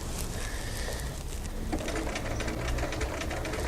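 A sewing machine stitches fabric during a kids' sewing project, giving a steady rapid mechanical whir and clatter at close range that runs continuously without pause.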